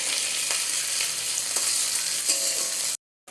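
Onion, garlic and ginger paste sizzles steadily in hot oil while being stirred, a dense continuous frying hiss with a few scraping strokes, ending abruptly.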